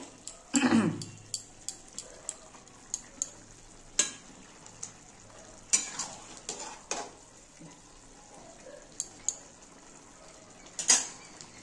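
Chickpea ghugni curry with mutton fat being stirred in a pot: a short burst of sizzling, then scattered scrapes and clinks of a spoon against the metal, near and intermittent, without speech.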